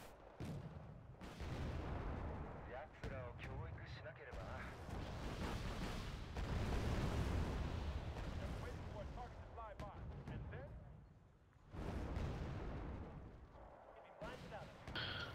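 MLRS rocket artillery firing in Wargame: Red Dragon, long roaring salvos and rumbling booms that swell and fade in waves, with people talking over them.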